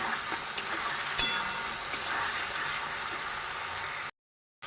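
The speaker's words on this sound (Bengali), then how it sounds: "লবণ হলুদ দিয়ে আলুটা ভেজে নিচ্ছি।" Potatoes fry in hot oil with salt and turmeric in a pan for a vegetarian banana-flower dish, giving a steady close hiss with a few soft clicks of stirring. No voices are heard, and the sizzle cuts to silence near the end.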